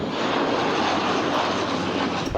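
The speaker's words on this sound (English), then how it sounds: "2 pilots and scooper planes dropped water on wildfire hotspots at Johnson Ranch late Thursday afternoon" Firefighting scooper planes drone low over a wildfire hotspot at Johnson Ranch, a dense, steady roar of aircraft engines that stays loud and even throughout, with no voices.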